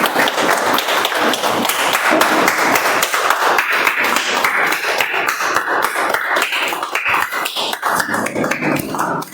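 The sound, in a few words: audience applause after a Toastmasters speech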